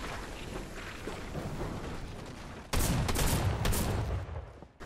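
Players trade gunfire in OG Fortnite at Shifty Shafts: a muffled stretch of distant shooting gives way to a louder, dense burst of rapid shots and impacts.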